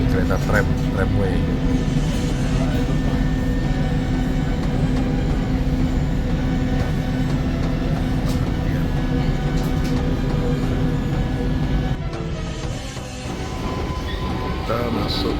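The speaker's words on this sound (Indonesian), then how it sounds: "Naik tramway ini di daerah Tophané." A tram rolls through the Tophane district of Istanbul, its continuous low rumble and rattling wheels loud and steady from inside the car, with voices talking over it.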